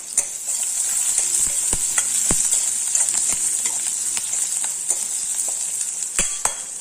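Garlic hitting hot oil in a pan for a quick tiffin-box dish gives a loud, steady sizzle throughout, broken by sharp clicks and scrapes from a spoon stirring close by.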